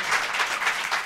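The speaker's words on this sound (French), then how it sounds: "ça peut s'applaudir ce genre de discours" Brief burst of audience applause at a comedy show after a speech, dense and steady clapping from many hands filling the whole moment.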